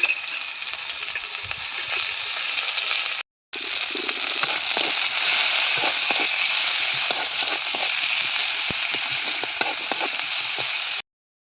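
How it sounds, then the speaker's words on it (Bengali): Chopped onions fry in hot oil with whole cumin, dried red chillies and bay leaves in a Bengali home kitchen, a steady loud sizzle running unbroken apart from one short gap, with no voices. "ওই দেখুন পেঁয়াজটা ভেজে নিচ্ছি"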